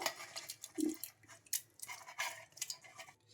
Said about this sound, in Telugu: ఇక్కడైతే నేను వాటర్తో సహా మిక్సీ జార్లోకి అయితే తీసుకుంటున్నాను